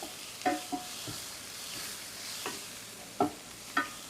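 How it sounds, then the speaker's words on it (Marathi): Jackfruit and tomato sautéed together in a pan, with a steady low sizzle beneath several sharp scrapes and clinks of a spatula stirring at irregular intervals, close by, with no talking. "आता हे दोन्ही व्यवस्थित एकत्र करून परतून घेऊया"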